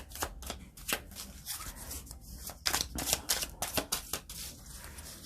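Tarot cards being shuffled in quick riffling bursts, a crisp rapid flutter repeated several times, close and moderately loud with no talking.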